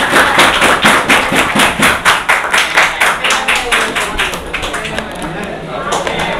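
Clapping from a group of tenth-standard students at a classroom session, applauding their teacher; steady, fairly loud rapid claps that fade slightly toward the end, with no voices over them.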